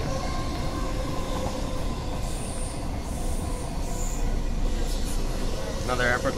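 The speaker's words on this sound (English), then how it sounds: "Another airport line train." An airport line train rumbles steadily through a tunnel at night with a continuous low roar, faint high squeals and clicks over the tracks, and some talking mixed in.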